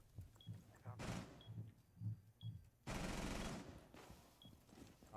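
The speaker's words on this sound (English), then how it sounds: "Shots being fired." Gunfire in the video game Rainbow Six Siege: a short burst of shots, then a longer rattling volley, fairly faint under a commentator's voice.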